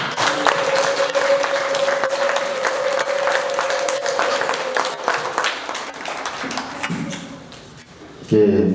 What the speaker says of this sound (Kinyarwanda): mu ntiza amashyi n'impundu rero tubashimire